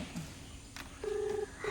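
A few short electronic beeps of phone keypad dialing tones, spaced unevenly over faint background noise.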